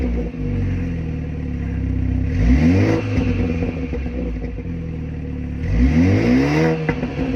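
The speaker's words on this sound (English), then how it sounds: "I do want to mention this does have an inline 6-cylinder that makes some serious powers." A 2021 BMW 4 Series Coupe with an inline six-cylinder engine idles smoothly, then revs twice in quick, sharp bursts that fall back to idle, recorded close and fairly loud with no talking.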